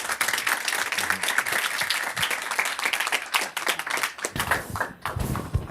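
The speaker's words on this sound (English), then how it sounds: "So please give a warm applause to David." An audience of music students gives a warm round of applause for a guest photographer, loud, close clapping that swells and then thins into scattered claps near the end.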